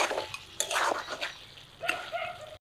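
A spoon scrapes and knocks around a metal pot while mutton head and shank curry with ground spices is stirred and mixed, giving irregular clinks and scraping bursts close by with quiet gaps between.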